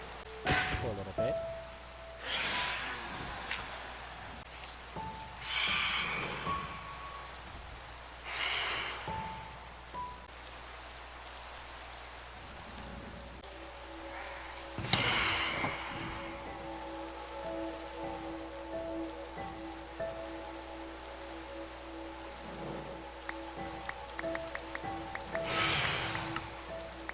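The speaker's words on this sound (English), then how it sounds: "I would have hoped the rain would have stopped sometime during the daytime" Steady rain patters across a Minecraft world during daytime, a constant soft hiss with scattered louder drops and occasional game sound effects, no voices.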